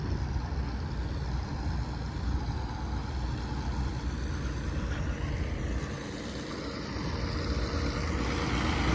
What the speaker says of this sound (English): Got the John Deere tractor. It's a people mover.